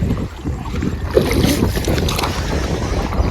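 Strong wind buffets a small boat out on a tidal creek during a mud crab outing, a steady roaring rush with water movement, loud and continuous throughout with no talk.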